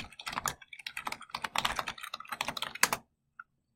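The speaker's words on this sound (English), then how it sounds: "Type your student password." A student types a password on a computer keyboard with quick, close clicking keystrokes in uneven bursts. The typing ends with a short pause and one last faint tap.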